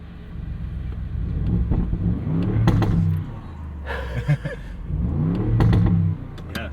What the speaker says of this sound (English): If we put this into sport, it'll open up our valved titanium exhaust.